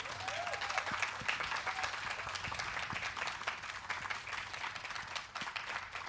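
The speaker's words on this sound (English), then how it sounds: "Can we just give another big round of applause to our musicians here?" Steady applause from an audience at an outdoor live music concert, a dense continuous wash of clapping heard from a slight distance, fairly soft and even for six seconds, with a faint whistle early on.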